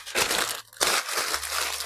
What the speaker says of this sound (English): I'm going to crumple this and stick it in the water